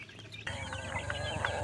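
Hens with their chicks cluck continuously at close range, soft overlapping calls with high chick peeps, starting quieter then becoming a steady busy chorus.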